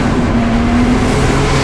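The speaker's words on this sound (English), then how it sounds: "So that's a naturally aspirated race car right there." A naturally aspirated BMW race car roars at a circuit race at Zwartkops, a loud, sustained engine drone with a steady pitch held throughout.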